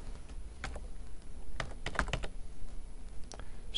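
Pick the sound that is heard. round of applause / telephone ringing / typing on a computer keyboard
typing on a computer keyboard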